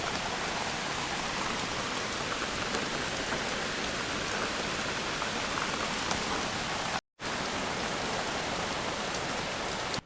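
Steady Sunday rain falls across the whole stretch, a dense even hiss of drops on surfaces, broken only by one split-second gap.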